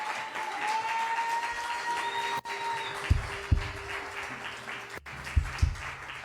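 Applause from a church congregation, a steady broad wash of many hands clapping with a few sharp low knocks and thumps scattered through it.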